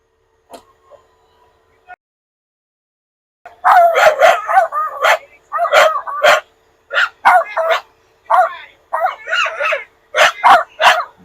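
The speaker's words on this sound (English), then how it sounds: "Dogs are going nuts." Several dogs near Utah Lake break into loud, close, rapid barking, yelping and howling after a few seconds of near silence, with the bursts continuing in quick overlapping clusters to the end.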